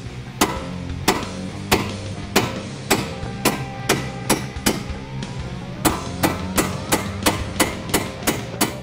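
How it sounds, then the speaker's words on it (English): Steady, repeated metal hammer blows, roughly one or two per second, ringing sharply against a bolt being hammered out of a strut on a 2015-2023 Mustang, with a continuous background hum. "once you hammer it off, the bolt's not going to fly out the front."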